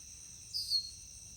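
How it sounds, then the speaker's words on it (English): An unfamiliar bird gives a brief, high, thin call out in a pasture, heard once at moderate distance over quiet outdoor ambience. "I never heard that one before."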